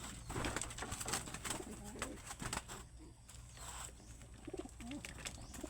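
Pigeons coo softly in a loft or yard, repeated low throaty calls mixed with faint rustling, wing flutters and other bird noises, with a background hum.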